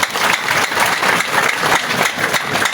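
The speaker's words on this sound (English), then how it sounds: "Please clap for yourselves." Crowd at a National Unity Platform political rally applauds steadily, a dense, even wash of many hands clapping together for a few seconds with no voices on top.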